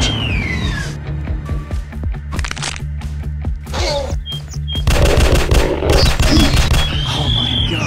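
Gunfire from a dinosaur hunting video game set in a Jurassic zoo on mobile: rapid, dense bursts of shots over a constant game soundtrack, loud and continuous throughout, with no voice.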